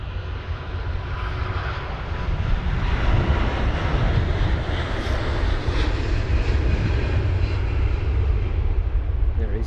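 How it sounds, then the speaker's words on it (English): British Airways Airbus A350-1000, flight BA289, departing Heathrow in stormy weather, a loud jet engine roar that swells and holds strongly, close and sustained, with a voice faintly under it. "Golf X-Ray Whiskey Bravo Oscar for this British Airways A350-1000, brand new, flight number BA289"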